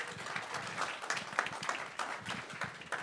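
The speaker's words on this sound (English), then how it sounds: "please give her a big applause" Light applause from a small audience at a CocoaHeads developer meetup, scattered claps at moderate distance with a few murmured voices underneath, steady for a few seconds.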